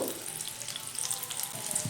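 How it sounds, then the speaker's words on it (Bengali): Homemade snacks frying in hot oil, giving a steady close sizzle with fine crackling throughout a short moment and no talk. "এইভাবে কিন্তু আমি প্রত্যেকটাকে ভেজে নেব"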